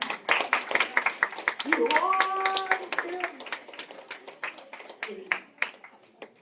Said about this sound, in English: Let's give a round of applause to the speakers.